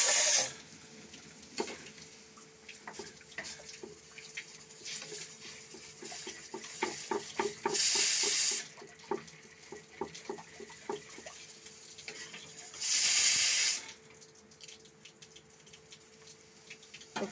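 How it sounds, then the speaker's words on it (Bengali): Water is poured into a hot frying pan while cream fritters (sorer bora) cook, giving two short, loud hissing sizzles several seconds apart between quiet stirring and utensil clinks, with no talking. "তারপর এখন জল দিয়ে দিচ্ছি।"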